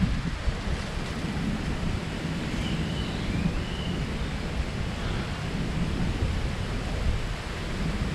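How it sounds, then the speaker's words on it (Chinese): Steady wind blows at a seaside beach in Palau, a constant loud rushing roar with surf-like noise and no voices. "我们可以闭嘴一下，然后就听风的声音"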